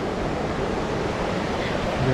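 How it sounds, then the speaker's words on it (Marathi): Continuous outdoor rush of falling rain at a riverside campsite with a tent, steady and fairly loud, blending with a windy, watery wash and no voices. "पाऊस बघा चालू आहे"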